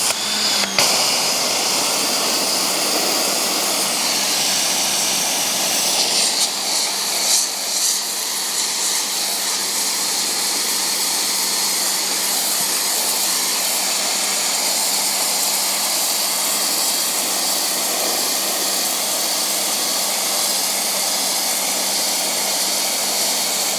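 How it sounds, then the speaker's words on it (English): A Giraffe Tools wall-mounted pressure washer runs with a steady, loud hissing spray roar and a constant motor hum, unbroken for about twenty-four seconds, with slight shifts as the spray moves. "this pressure washer definitely feels a little bit less powerful than the G30 as I expected"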